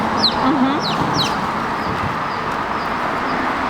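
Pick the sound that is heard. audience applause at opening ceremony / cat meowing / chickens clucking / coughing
chickens clucking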